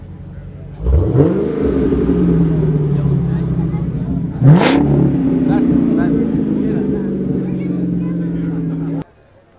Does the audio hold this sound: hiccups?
no